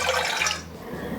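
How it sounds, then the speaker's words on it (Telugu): Water pours into a bowl for a coffee experiment, a steady splashing rush that is strongest at first and then fades to a quieter trickle. "ఈ గిన్నెలో వాటర్ పోస్తున్నా"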